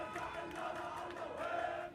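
A dense crowd gathered at Syria's border with Turkey and Lebanon, a steady murmur of many voices with a few raised shouts, continuous and moderately loud throughout.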